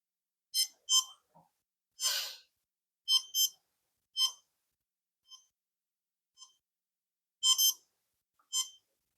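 ESCs on an F450 drone beep during throttle calibration: a sparse series of short, high electronic chirps, some paired, separated by silence, with one longer tone near the start.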